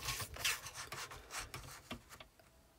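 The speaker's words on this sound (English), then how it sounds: "So let's trim down the side." Craft knife or trimmer cutting down the side of a layered card stencil, a quiet run of soft scraping and rubbing strokes in uneven bursts, close and faint with no talk.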